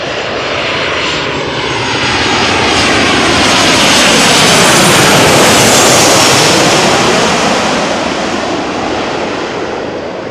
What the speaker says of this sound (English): 737-800 arriving from Vienna